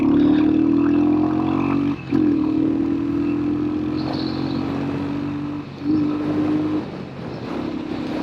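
A custom Royal Enfield Hunter 350 motorcycle runs at a steady, loud engine drone. The pitch dips briefly near two and six seconds as it shifts or rolls off, then pulls again, and the sound eases toward the end.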